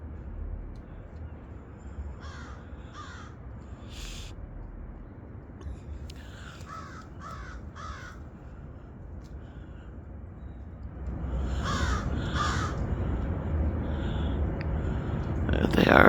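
Crows cawing from a tree outdoors, a handful of harsh calls arriving in short bursts at moderate distance over a steady background rush that swells louder toward the end.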